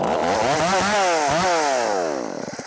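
A Craftsman Poulan chainsaw converted into a race saw with a big carburetor screams at high revs, rising and falling in pitch through repeated throttle bursts before dropping off, loud and close.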